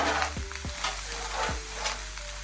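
Lobster frying in a pan in a home kitchen, a steady loud sizzle with a few sharp scraping stirs over it, close and with no talk.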